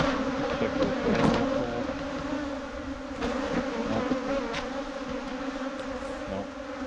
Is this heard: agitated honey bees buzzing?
yes